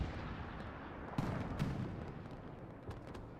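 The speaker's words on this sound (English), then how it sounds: "Strafing run coming down on Western" Distant gunfire from a strafing run in a World War II multiplayer shooter match, a few dull thuds and sharp cracks over a steady rumbling battlefield wash, faint rather than close.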